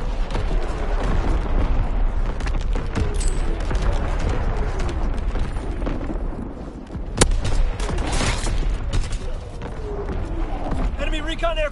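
Enemy artillery explosions land in a console war game, as heavy booms and crackling blasts rumble over dense battlefield noise, with one sharp nearby impact standing out and a voice announcing the incoming fire.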